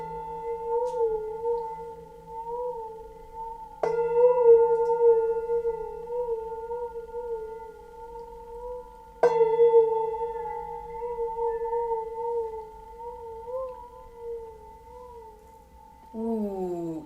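A metal singing bowl with water inside is struck three times, each strike followed by a long, clear ringing tone that wavers and warbles as the water moves, ending with a sliding, bending pitch.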